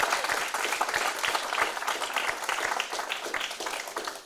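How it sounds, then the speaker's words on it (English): An audience claps for two secondary-school debate teams after a debate round, a moderate, fairly distant burst of mixed clapping holding steady for a few seconds with no voices over it. "I want you to extend once again a round of applause to both teams, the Princess Margaret School and the St. Mary's Secondary School"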